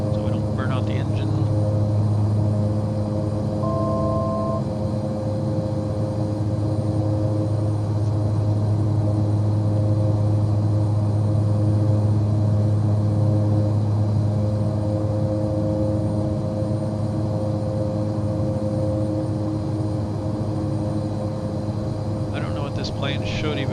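Cessna 408 aircraft engines drone steadily throughout in Microsoft Flight Simulator 2024, with a constant even hum and no pauses.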